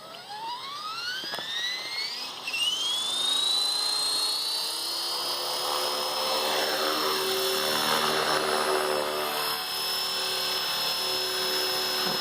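A Blade 400 radio-controlled model helicopter spools up with a rising whine and then hovers, its high rotor and motor pitch holding steady at a loud, close, continuous buzz with slight wavering.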